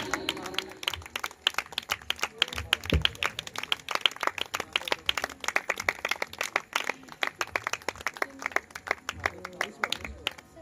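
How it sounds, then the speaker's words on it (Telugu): Rhythmic group clapping at a church gathering, sharp repeated hand claps in a steady beat with voices talking underneath and a low background hum. "చప్పట్లు కొట్టండి"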